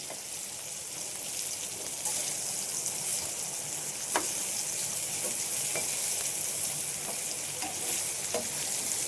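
Shingta fish pieces frying in oil in a pan, a steady, dense sizzle and crackle running throughout with occasional louder pops, close and continuous with no talking.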